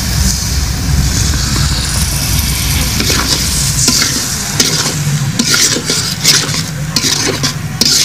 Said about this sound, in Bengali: আর 2 মিনিট কষাবো আমি এটা